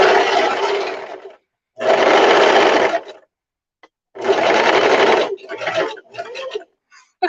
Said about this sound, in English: Making sure I don't actually sew the tails into the other side.